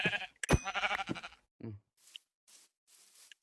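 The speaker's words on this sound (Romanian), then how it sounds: "Am găsit 2 oi eu aici." Several bleats from Minecraft sheep, a couple of short calls followed by softer, breathy ones spaced apart, fairly close and alone with no talk.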